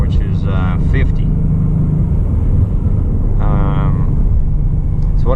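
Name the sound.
2017 Ford Mustang engine at 3000 RPM driving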